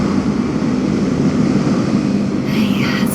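Spacecraft engines in the game The Invincible start up with a loud, steady low rumbling roar that holds throughout, a brighter hissing surge rising near the end.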